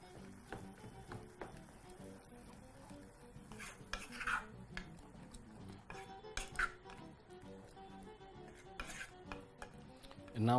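A spoon scrapes and knocks around a cooking pot as pre-cooked githeri mix is stirred through, quiet irregular clinks and rubbing strokes close by, with no talk.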